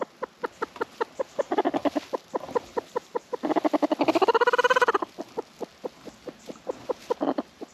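A chick on a farm chirps in short, regular peeps, close and clear. Partway through, the calls run into a rapid, rising trill before settling back into spaced chirps.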